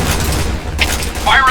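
A grenade blast in a shooting video game: a brief, loud, dense burst of roaring noise that fills the whole short moment, up close with a crackly tail and no clear speech.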